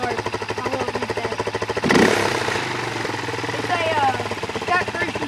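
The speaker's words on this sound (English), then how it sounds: "You can go ahead and start that. It's a pretty hard bike to start." A hard-starting dirt bike engine cranks and rumbles in a steady pulsing beat, then catches with a loud burst near the two-second mark and settles into a running, revving growl, with faint voices underneath.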